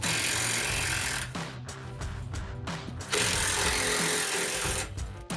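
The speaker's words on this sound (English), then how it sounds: "Next, we will remove the 2 10mm nuts to the front of the muffler hanger." A ratchet working loose two 10mm nuts on the front muffler hanger of a Ford F-150, giving steady, close, continuous mechanical clicking with short pauses between bursts.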